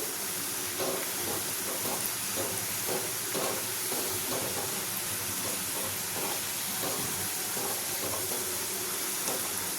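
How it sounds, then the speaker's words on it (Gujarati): Steady hissing sizzle of shakkarpara dough deep-frying in hot oil over a medium gas flame, continuous and fairly close, with faint bubbling throughout and no voices. "મીડિયમ ગેસની ફ્લેમ ઉપર તળવાના છે"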